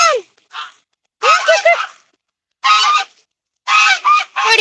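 Goslings honk loudly and close by in short separate bursts, about four calls with pauses of silence between them, outdoors as a storm begins.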